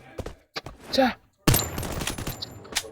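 Rapid gunfire bursts from a first-person shooter game, several sharp cracks clustered around a loud burst, with a brief silent gap before a dense, noisy stretch of continued shots and game effects.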